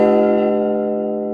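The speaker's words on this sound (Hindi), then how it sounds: "भगवान का स्मरण करते हुए घंटा बजाइए।" A Hindu temple bell in a temple built of pink Rajasthan stone rings out once, its loud, bright metallic tone sustaining with rich overtones as it slowly fades.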